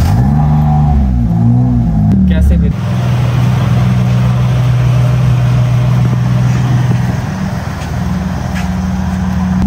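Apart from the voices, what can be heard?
car engine starting and running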